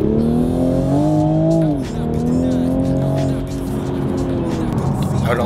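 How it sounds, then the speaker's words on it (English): A Toyota Supra drives close by with its engine rising and falling through gear changes, a loud steady rumble with shifting pitch and some tire noise. "first drive in the Supra."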